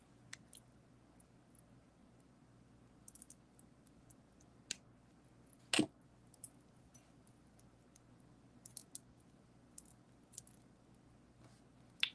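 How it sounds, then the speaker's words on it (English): Wire cutters trim excess wire off a handmade wire-wrapped earring, giving a single sharp snip amid faint scattered clicks in a quiet room. "I'm going to come in with my cover tool and trim off the excess"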